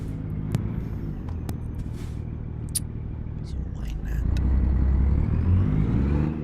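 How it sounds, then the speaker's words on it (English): A Kenworth truck in American Truck Simulator drones with a steady low engine rumble that swells louder partway through, with short clicks and faint hisses over the top. "This truck actually sounds so good."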